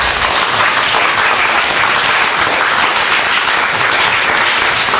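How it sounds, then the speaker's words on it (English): A roomful of workshop participants claps hard and fast together, a dense, loud, steady wash of hand claps holding evenly for about five seconds with no talking. "So now try clapping pretty loud."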